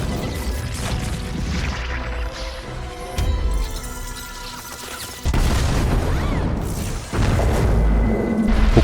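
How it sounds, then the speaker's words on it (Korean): A deep booming explosion of crystals in the animated series Arcane, with rumbling crashes and debris, loud and sustained, swelling again in heavy bursts over several seconds. "폭발이 일어나게 됩니다."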